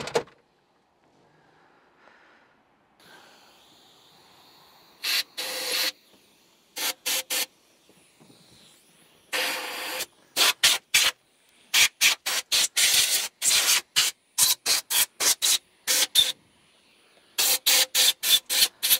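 Compressed air blows debris out of a part from a 1976 Mercruiser 120hp engine in a Starcraft boat, heard as a series of close, sharp hissing blasts, mostly short with a few longer bursts, with no talking.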